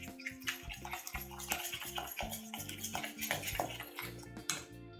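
Soaked semolina batter for rava dhokla is beaten briskly in a bowl, making quick repeated wet slaps and light spoon clinks against the rim, close and fairly quiet.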